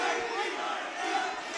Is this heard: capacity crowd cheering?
yes